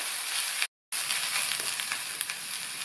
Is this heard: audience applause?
no